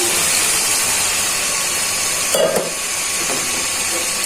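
Water poured into sizzling fried masala for a baata fish dopeyaja curry gives a loud, steady hiss close by, with a short bubbling burst in the middle.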